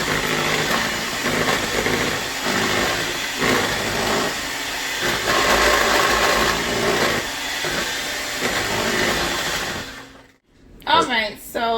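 Electric mixer whirring steadily through pineapple rum cake batter, a loud continuous motor drone close by that cuts off near the end, followed by a brief voice.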